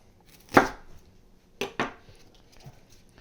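Knife chopping leek on a cutting board, three sharp close chops, one alone and then a quick pair, with quiet pauses between, and no talk.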